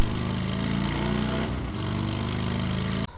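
A mini motorbike engine runs steadily in a race, a loud continuous buzzing drone that holds an even pitch and cuts off sharply near the end.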